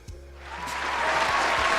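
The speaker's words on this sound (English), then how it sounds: "We need a round of applause." Audience applause at a live stage event builds from scattered claps into a steady, dense wash of clapping that grows louder over a couple of seconds, with a faint low hum beneath.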